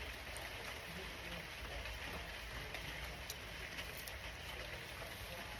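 Faint, soft hiss of light drizzle falling steadily in a backyard under a tree canopy, with tiny scattered drips and no other sounds standing out.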